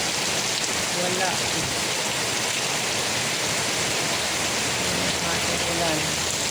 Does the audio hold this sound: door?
no